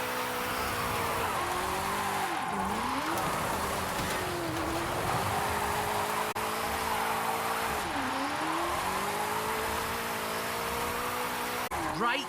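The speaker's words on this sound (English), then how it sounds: "Watch the corners, though. Can't drift if we hit trees." A car drifting downhill in Forza Horizon 4: a steady, loud engine drone with tires squealing continuously and the pitch dipping and rising as it slides through the corners. It plays alone, with no voice over it.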